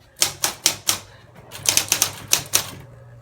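Keys struck on a typewriter in a home: a quick run of crisp, close clacks, a short pause, then a second faster burst of strikes.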